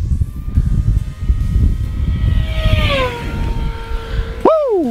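An E-flite V1200 RC airplane at full throttle screams past, its high electric whine sweeping down in pitch as it passes close and loud, then a sharp rising whine as it turns away at the end.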